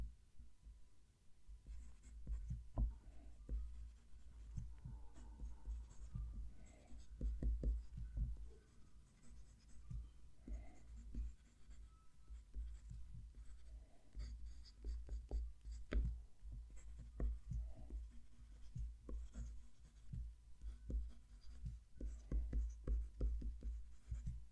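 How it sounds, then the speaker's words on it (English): A Lamy 2000 fountain pen writes on paper in soft, close scratchy strokes with short pauses between words, quiet and continuous over a low background hum. "That's a lot smoother writing."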